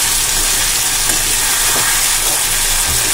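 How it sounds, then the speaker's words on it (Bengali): Curry frying over a medium flame after water is added, giving a continuous, dense, loud sizzling hiss with faint bubbling and no talk. "জলটা দিয়ে দেব।"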